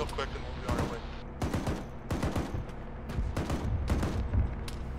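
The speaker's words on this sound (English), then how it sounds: "They're shooting RPGs at us." Military video game firefight with RPG launches and gunfire: repeated loud gunshot bursts and heavier blasts in irregular clusters across the whole stretch, with voices talking underneath.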